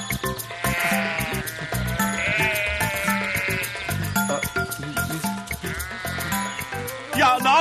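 Sheep bleating in a Turkish comedy scene, several loud, wavering bleats overlapping one another close by and continuing throughout, with a brief clatter near the end.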